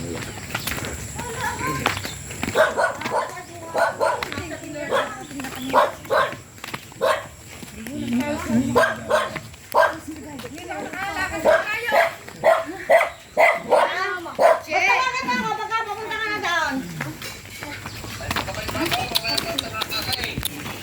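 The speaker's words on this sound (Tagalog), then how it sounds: "Hala, may aso." A dog barks and yips repeatedly at close range, mixed with whimpers and people talking over it.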